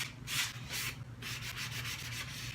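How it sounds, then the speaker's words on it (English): Hand sanding on a vintage wooden table with a marble top: soft, close rubbing strokes in an uneven back-and-forth rhythm, quiet and alone. "So it doesn't take that much to sand it."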